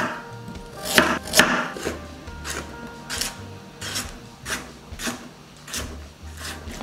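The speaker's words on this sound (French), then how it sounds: "Ensuite, on va faire des lamelles." Knife slicing a carrot into thin strips on a cutting board, about eight crisp, separate chops in an uneven rhythm, close and clear with no talking.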